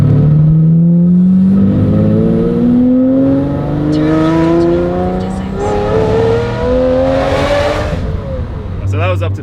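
A Lamborghini engine revs up through its power range to about 6,000 RPM, one long rising, raspy howl that climbs steadily in pitch, loud and close, then drops back at the end.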